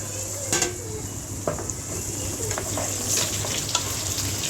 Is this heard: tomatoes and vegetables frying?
yes